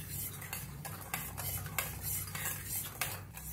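A spoon stirs sugar into milk in a pot so it dissolves, while dough for kadakani is being readied; soft, steady scraping and swirling clinks, close and quiet, with no voices.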